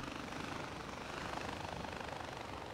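A helicopter's rotor in the video game Far Cry 4 drones in a steady, dense whir, constant and fairly distant, with no voices.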